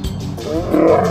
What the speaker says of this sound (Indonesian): Anda mungkin pernah mendengar rintihan mendalam yang disebut sebagai gebrakan singa